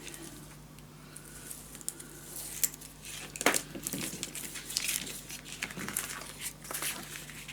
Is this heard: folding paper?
yes